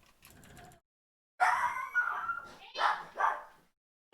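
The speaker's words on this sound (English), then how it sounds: "Sorry about the dog barking." A dog barks and yips in the background, a few sharp close-ish bursts, with a brief stretch of faint talking earlier in the clip.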